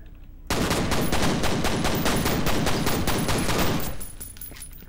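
Automatic gunfire in the shooter game FEAR starts abruptly after a short pause. It rattles in a fast, even stream of loud shots for about three and a half seconds, then tapers off.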